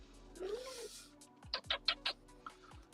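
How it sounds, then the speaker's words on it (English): A cat gives a drawn-out, rising and falling meow, then a string of short, sharp chirps and squeaks follows, all fairly quiet and heard without talk. "There's a cat."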